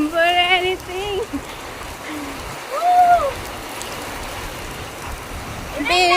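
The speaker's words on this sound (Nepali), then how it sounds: "यस्तो ठुलो पानी आउँदैछ।" Heavy rain pours down in a steady, dense hiss close by, with people talking and singing over it.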